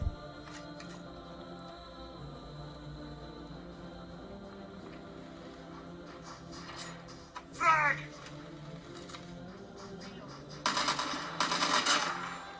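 Gunfire and a grenade blast from a mobile shooting game played on a Redmi 10X 5G phone, heard as short bursts around the eight-second mark and a louder, denser crackle of shots near the end over a steady game background.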